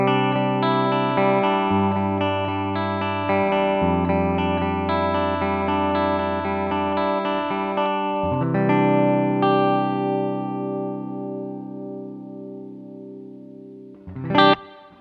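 A clean, undistorted electric guitar tone through a compact VOX MV50-BQ Boutique tube head amp, with chords ringing and sustaining for several seconds, then a final strum near the end.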